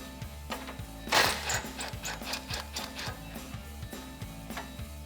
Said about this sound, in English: Grab a 13 socket. We're going to loosen up the clamp holding on our factory muffler to the over axle pipe.